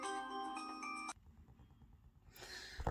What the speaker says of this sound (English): sorry for that, that was my phone.